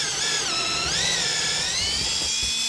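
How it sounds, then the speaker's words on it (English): A high-pitched whining drill bores a hole in a roof for solar panel wiring, running steadily and close up, its pitch wavering slightly, with no voices. "So you drill a hole, slide the wire in there"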